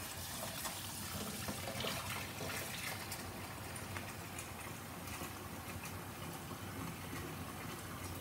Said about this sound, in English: Let me get some water in this cup.